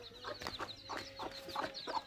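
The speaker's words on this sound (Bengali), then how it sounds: "এই যে মুরগিরে খাবার দিছি।" Chickens clucking close by while being fed, with a busy run of short repeated clucks and squawks across the whole stretch.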